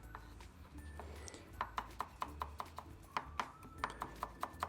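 Onions being finely chopped on a board with a knife, a series of sharp, close knocks coming in quick irregular bursts after a quieter opening, over faint background hum.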